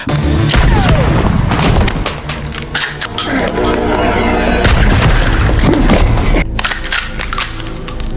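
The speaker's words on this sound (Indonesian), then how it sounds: "muncul dan langsung melepaskan tembakan ke arah Richard" Gunshots ring out in a film scene: a rapid series of sharp, loud cracks and booms in uneven bursts, with a voice speaking between some of the shots.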